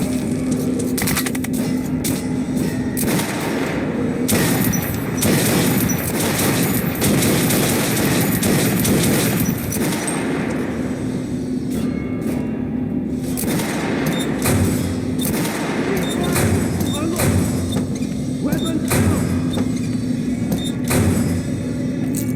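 Gunfire at a shooting range in Metro: Last Light, with loud repeated shots and bursts in irregular clusters, booming echoes and brief lulls across the stretch, and no talking.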